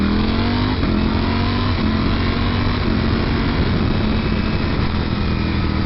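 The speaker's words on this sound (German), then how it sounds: "Okay, tun wir mal einen Quickshifter durchladen." Ducati Panigale V4S motorcycle accelerating hard with quickshifter upshifts, a loud, dense engine roar that stays steady and close, joined by constant wind rush.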